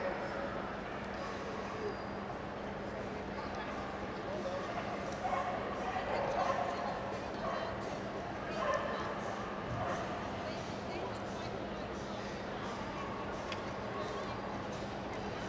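A Spanish water dog, an ancient water breed, barks in short bursts inside a busy indoor arena at an obedience rally event, set against a steady crowd murmur and a low hum.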